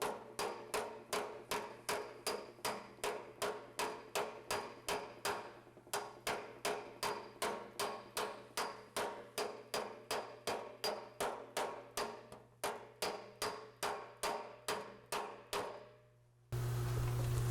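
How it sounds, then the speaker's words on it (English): A slapper strikes Austin-Healey 3000 shroud sheet metal during planishing, giving a fast, even run of sharp metallic slaps at about two per second that pause briefly and resume, close and alone over a low steady hum. "Might get better result with the slapper."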